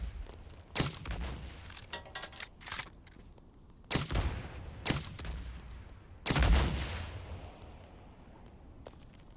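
Heavy gunfire in the video game Days Gone during a horde assault at Lost Lake's old sawmill: sharp, loud shots in irregular bursts, some close and booming, with a long decaying tail of echo between volleys.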